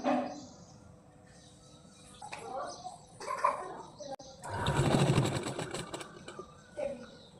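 A sewing machine stitches the front piece of a pair of pants, whirring in a loud, close burst after a stretch of quieter handling and a voice speaking nearby.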